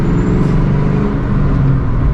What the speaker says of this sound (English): Let's give it a big third gear pull.